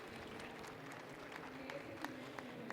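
A workshop audience applauds a speaker. The clapping is soft and distant, a steady patter of many hands in a room, with faint murmuring underneath.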